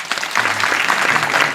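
A crowd at a comic kirtan breaks into loud, close, continuous clapping, many hands beating together in a thick, even wash of applause.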